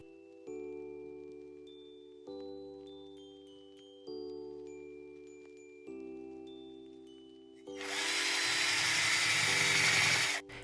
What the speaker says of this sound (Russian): Прорезает окошки сверлом.